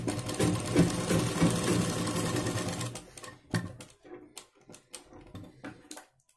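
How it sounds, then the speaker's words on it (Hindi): Sewing machine stitching pleats on a blouse, a steady fast whirring run for about three seconds, then slower, intermittent stitches and clicks, close and alone. "इसी प्रकार एक एक करके मैं सभी सलों को सिलाई लगा दूंगी।"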